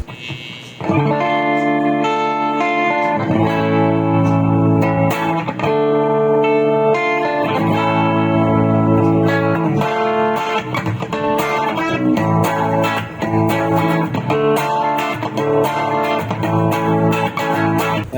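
Electric guitar on the bridge pickup played through a NUX MG30 multi-effects unit with modulation and reverb, sounding loud and sustained with distorted chords and ringing notes throughout.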